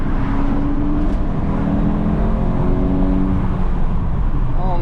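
A stock Mk8 Volkswagen GTI accelerates hard in second gear with a loud, close engine drone that climbs steadily in pitch, heard from inside the car over continuous road and wind rumble.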